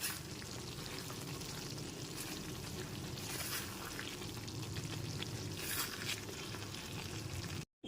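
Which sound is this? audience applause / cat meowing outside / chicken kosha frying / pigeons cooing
chicken kosha frying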